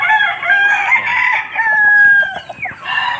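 Chickens cluck and a rooster crows up close, loud and continuous, with overlapping calls and no talking, including a chicken recovering from a ringworm skin infection.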